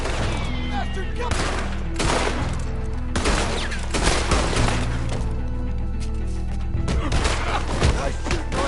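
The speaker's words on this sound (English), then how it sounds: "Nice shooting, Arthur" Gunfire rattles through a Red Dead Redemption 2 shootout in a steady dense barrage of loud overlapping shots, close and continuous over a low game rumble, with voices faintly mixed in.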